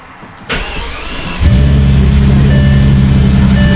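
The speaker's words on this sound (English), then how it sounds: "I'm going to do a startup of the Bentley now, just to show you its exhaust note" A Bentley cranks and fires up on a cold day, the starter whirring briefly before the engine catches into a loud, deep exhaust idle, with a faint door-open chime audible over the rumble.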